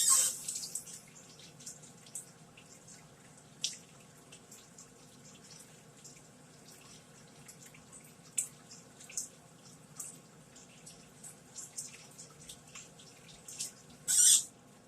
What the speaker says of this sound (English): Now let me wash my hands